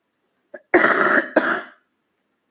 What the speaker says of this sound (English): There was that cough I warned you about.